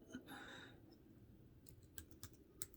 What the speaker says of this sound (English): let's see if the keyboard can type. Yep, it's charged. It's typing